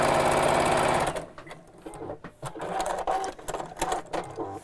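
A noisy domestic sewing machine that needs a new needle runs steadily and loudly for about a second, then stops and gives way to intermittent clicks, knocks and brief mechanical noises.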